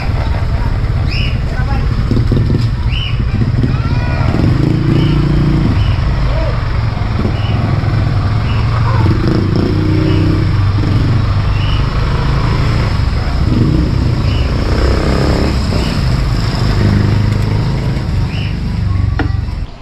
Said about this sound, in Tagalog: Ganda na ng dalhin itong motor ni Utol.